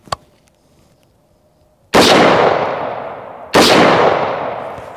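Two loud 7.62x51mm (.308) rifle shots fired at body armor, each a sharp crack followed by a long decaying boom, spaced about a second and a half apart after a small click near the start, with no talking.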